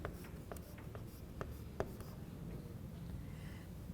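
A pen or marker stroking across paper or a board while a line is drawn for a geometry problem, a faint scratchy run of short strokes and taps over a quiet room, no voices.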